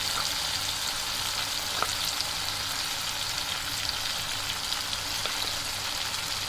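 Masala frying in a pan as tomatoes are added to a kidney (gurda) masala, a steady dense sizzle and crackle that holds constant throughout, close and alone with no talking.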